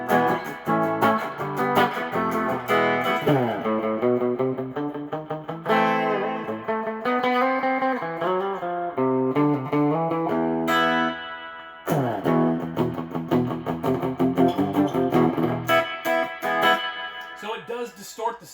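Electric guitar plays chords and single notes through a reverb pedal with the dwell turned down, the tail short and subtle, with a slight edge of grit.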